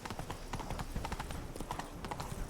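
Roach the horse gallops hard in The Witcher 3, a steady rapid drumming of hooves that fills the scene at close range and continues throughout.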